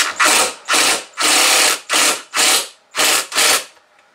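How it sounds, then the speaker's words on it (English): A power drill bores pilot holes into a wooden step stool in seven short, loud, close bursts, each separated by a brief pause; no voices are heard. "Once again, we drill pilot holes."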